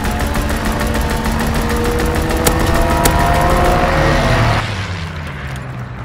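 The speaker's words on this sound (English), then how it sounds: "Call for a strafing run." Rapid aircraft gunfire rattles during a strafing run in Call of Duty: WWII, a loud dense stream of repeated shots with a couple of sharp cracks, over engine drone before the firing stops and a lower rumble remains.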